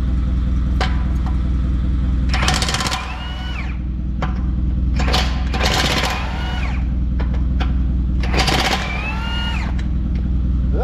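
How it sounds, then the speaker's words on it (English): A 1/2-inch impact wrench works the wheel nuts on a Case 305 dual front wheel: three short, loud rattling bursts, each ending in a whining spin-down, over a constant low engine drone close by. "now I can use my 1/2-inch impact"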